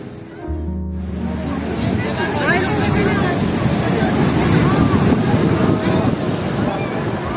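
Sea waves roll in at New Digha beach on a moonlit night as a continuous rumbling surf wash, with wind buffeting the microphone and a brief voice-like tone at the very start.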